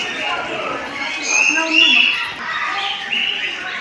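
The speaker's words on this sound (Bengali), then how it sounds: "পায়রা" Pigeons coo softly among chirping birds at a historic sightseeing spot in Murshidabad, India, mixed under a person talking close by.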